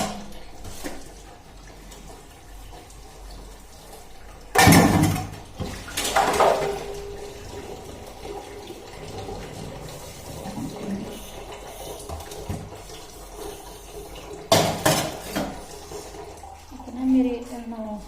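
Tap water runs in bursts as dishes are washed at a kitchen sink, with splashing surges between quieter stretches of clinking and handling, and someone talks intermittently.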